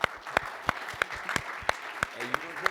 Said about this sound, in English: Can we get a round of applause for them again?